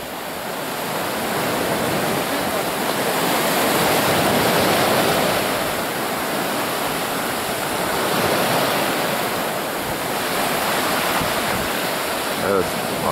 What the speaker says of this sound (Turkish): Şu anda dalga yapıyor onu.